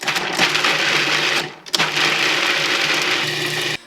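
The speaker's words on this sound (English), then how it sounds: "I'll add a cup to the food processor, and I'll pulse" A food processor pulsing room-temperature boiled dal for dhalpuri roti: loud whirring motor runs in two bursts with a brief stop between, close and alone.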